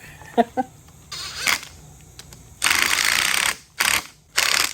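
A ratchet tightens the fasteners of an aluminum handlebar guard on a TTR dirt bike, giving a few quick clicks followed by longer bursts of loud, rapid ratcheting separated by short pauses.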